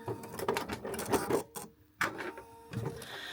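A sewing machine stitches the end of a quilted potholder made from jelly roll strips, a rapid mechanical whir in bursts that stops briefly, then starts again at moderate loudness close by.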